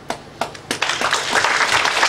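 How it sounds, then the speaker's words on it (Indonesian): Scattered claps build into a short burst of audience applause for a speaker at a sales talk, starting with a few isolated claps and swelling into steady clapping. "Bayarnya cuma tepuk tangan."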